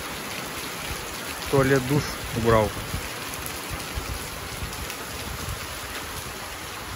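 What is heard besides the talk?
light rain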